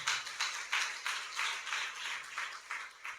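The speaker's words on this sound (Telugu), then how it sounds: "చప్పట్లు కూడా దేవుని స్తుతించాలి" Church congregation at an Easter service claps together in praise, a steady rhythmic series of about ten loud group claps at a brisk even pace, moderately distant in a large room.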